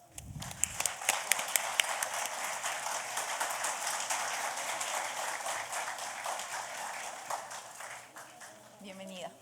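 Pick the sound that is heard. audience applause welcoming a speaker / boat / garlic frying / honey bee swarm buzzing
audience applause welcoming a speaker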